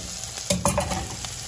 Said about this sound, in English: But right now it's kind of like a dry fry up, which is gonna be tasty